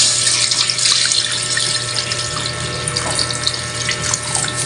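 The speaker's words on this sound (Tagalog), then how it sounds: "lalagyan natin siya ng tubig" Water gushes steadily into a pot, a continuous bright splashing rush over a low mechanical hum, loud and close, with no talking.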